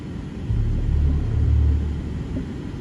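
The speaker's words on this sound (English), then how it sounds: "I'm gonna hit the start stop button. So now listen to very dramatic sound that it gives you" Pressing the start-stop button on a 2024 BMW i5 brings a deep, swelling synthetic rumble. It builds for about a second and a half, then fades and settles into a low, steady hum.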